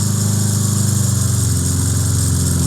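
A 1976 Honda CB400 Four warms up on choke at a fast idle, loud and close, its engine putting out an even, throbbing pulse with no voices over it.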